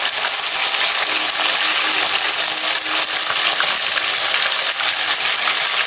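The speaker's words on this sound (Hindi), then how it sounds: "अब गोश्त को भूनना है भाई खूब" Goat meat fries hard in a pot for murg chole, giving a loud, dense, continuous sizzle that stays steady without pause.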